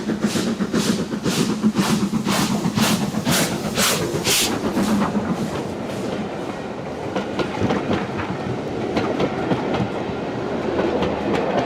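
A Southern Railway classic train passes close by, loud rhythmic clickety-clack of wheels over rail joints in a fast series of beats that fades into a steadier rumble and hiss.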